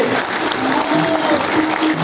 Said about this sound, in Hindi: तालियां हो जाए सबके लिए